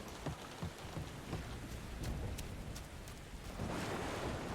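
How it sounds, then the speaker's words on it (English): Thunder in the Mafia video game, a low rolling rumble beneath steady heavy rain with scattered drops, swelling louder near the end. "But thunder."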